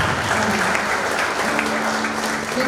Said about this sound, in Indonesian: Kita berikan tepuk tangan dulu buat Tuhan Yesus